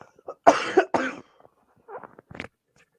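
Two or three sharp, close coughs in quick succession, followed by a softer throat-clearing hack a moment later in an otherwise quiet room.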